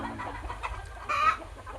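A native country hen clucks and squawks in a short burst inside a poultry farm shed, fairly close, over a low steady hum of farm background noise.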